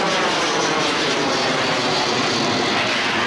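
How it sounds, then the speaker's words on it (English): A 1930s biplane flies past at an airshow, its engine a steady, loud broadband drone that holds evenly throughout with no voices over it. "old biplane goes by, imagine being built in the 1930s"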